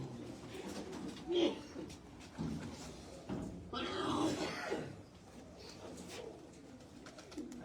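Pigeons give soft, low cooing calls while being caught by hand in a garden in Islamabad, with occasional fluttering and thuds and people's voices talking nearby.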